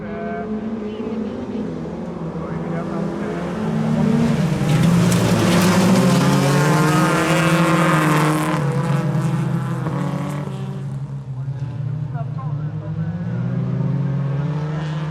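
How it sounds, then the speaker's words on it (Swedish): Folkrace cars pulling away together at a race start on red and green lights, a dense, loud engine roar that swells around four seconds, then holds with revving under faint talk. "Här går starten med rött och grönt ljus."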